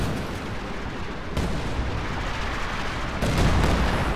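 Artillery fire in a real-time strategy game match, dense continuous rumbling barrages with heavier booming bursts around the midpoint and near the end, loud and close with no voices.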